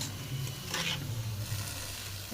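Pointed gourd slices frying in oil in a pan for a vegetarian dish give a soft, steady sizzle, close by and fairly quiet, with a brief stirring scrape partway through.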